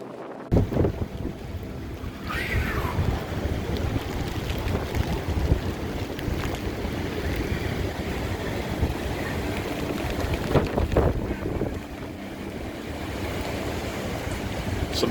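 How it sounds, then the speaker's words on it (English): Rough surf during Tropical Storm Cristobal at Gulf Shores, with heavy wind buffeting the microphone over a continuous roar of high waves breaking nearby. "Those waves are very high"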